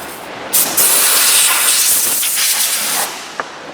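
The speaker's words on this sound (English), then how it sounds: "I'll wash down with the old brake cleaner." Brake cleaner hisses from an aerosol can onto the engine parts of a Honda CR-V i-DTEC, one close, loud spray burst of about two and a half seconds followed by a faint click.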